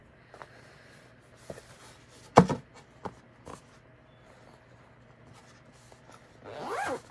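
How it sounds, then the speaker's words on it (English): A clothing zipper is drawn in a quick, sharp burst near the middle, followed by a longer, louder zipping run at the end, with a few small rustles in between and no talk. "I told you this is going to be zipping"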